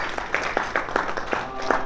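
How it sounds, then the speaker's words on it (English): Audience applause for the panelists at the close of a panel discussion, a short burst of scattered claps at moderate distance. "Let's give a round of applause for the panelists."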